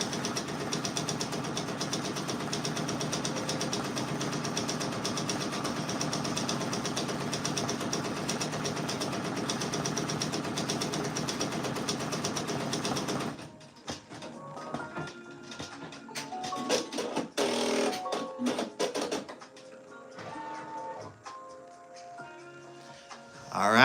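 An embroidery machine stitching out a Drake patch, a steady rapid mechanical whirring and ticking chatter held for about thirteen seconds, then stopping and giving way to sparse clicks and handling noises.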